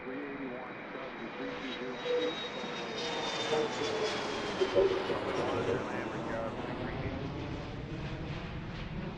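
A fixed-wing jet airliner takes off at Washington Reagan National Airport along the Potomac, a loud sustained engine roar rising steadily and heard from a distance outdoors, with a person speaking over it.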